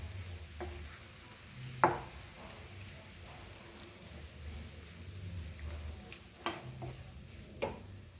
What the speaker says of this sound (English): So let's add the meat into this and let it cook for 10 minutes covered.